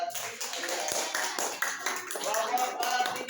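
A classroom of students claps together, a burst of many hands close by over a busy bed of voices, the applause rising and falling unevenly for a few seconds.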